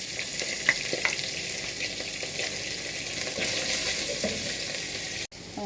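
Green chilies and ginger frying in hot coconut oil with curry leaves for a Kerala-style chicken coconut milk curry, a steady close sizzle with a couple of light clicks and a sharp knock near the end, no voices.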